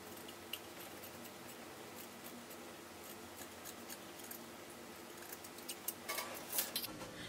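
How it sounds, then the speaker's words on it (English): Scissors snip through fabric while cutting the front armhole of a short ruffled gown, a series of faint, close crisp clicks and slides that grow busier toward the end over quiet room hiss. "I'll cut out the front armhole."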